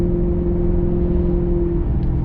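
A Maserati GranTurismo's naturally aspirated engine holds a loud, steady, deep drone from inside the car, with no talk.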